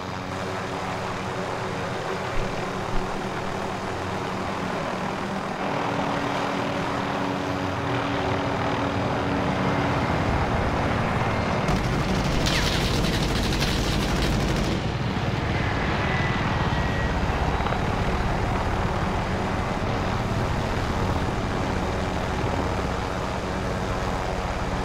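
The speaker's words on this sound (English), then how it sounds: "Hostile attack chopper carrying cash." Attack helicopter in a video game flying nearby, a steady broadband rotor and engine drone running throughout, swelling louder around the middle.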